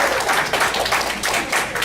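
A comedy-show audience claps in short, uneven bursts that swell and dip for under two seconds, fairly close and loud, with no one speaking.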